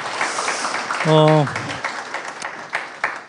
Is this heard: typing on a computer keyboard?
no